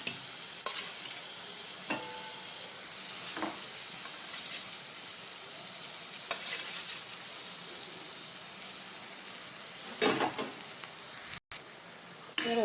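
Grated boiled potato is stirred into a gram-flour pakoda batter with a spoon, giving soft wet scraping and squelching strokes in irregular bursts, fairly close and quiet with no talk.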